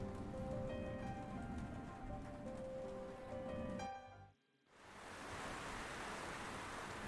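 Steady rain in a horror video game, a dense broadband hiss that runs under faint tonal music, drops out briefly to near silence, then returns louder and fuller.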